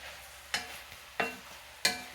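Gumbo stirred in a pot: three separate scraping strokes of a utensil against the pot, evenly spaced about two-thirds of a second apart, close and quiet over a faint background.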